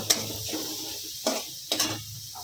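Finely chopped onions fry in a pan for an aloo matar paneer gravy, a low sizzle broken by several distinct scraping stirs and light clinks of a utensil against the pan.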